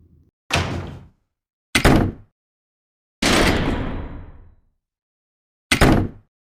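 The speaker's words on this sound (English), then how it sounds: "Slam the door in your bitch-ass faces." A door slams shut four times as a sound effect, each a loud, close, sharp bang with silence in between. The third slam rings out longer.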